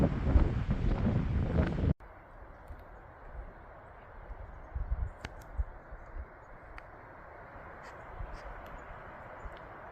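Wind on a high Colorado Trail mountain route, a heavy gust buffeting the microphone for two seconds, then a softer steady rush of breeze with faint scattered knocks and rustles.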